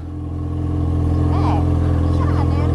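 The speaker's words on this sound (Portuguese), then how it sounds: "O barulho dela é legal, isso né? Isso sim que é moto." A motorcycle engine runs steadily at close range, a loud continuous low drone with strong harmonic hum, while a voice briefly cuts in over it.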